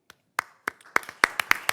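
A small audience at a township board of trustees meeting claps for an honoree, starting with a few scattered claps that quickly build into sparse, distinct handclaps from a handful of people.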